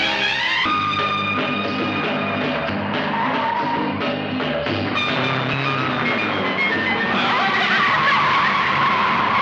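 A car in a film scene drives fast with screeching, skidding tyres, loud drawn-out squeals over an engine roar, continuous and close throughout.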